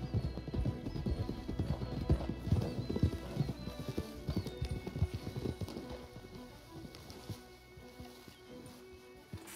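Horses' hooves clip-clop at a walk in Red Dead Redemption 2, a dense run of close, hollow thuds with an occasional whinny, the steps thinning out and growing quieter toward the end.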